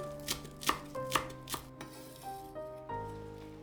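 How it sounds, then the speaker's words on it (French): A knife chops parsley on a cutting board in a quick series of crisp, close taps, slowing toward the end, with no voices. "J'émince 10 g de persil."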